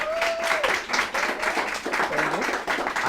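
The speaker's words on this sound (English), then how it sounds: "Can we also give Stephanie Renée a round of applause?" An audience claps and applauds steadily, with a voice speaking over the clapping.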